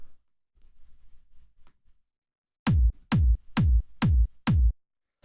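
Dry, unprocessed techno kick drum sample for dark warehouse techno, struck five times in an even, punchy rhythm after a quiet lead-in; each hit is loud, hard and tight with a short low thump.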